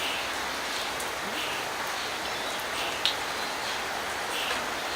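Steady rain falls outdoors at Loch Sport, a constant broadband hiss of drops on surfaces, even and unbroken throughout with one brief louder tap partway through.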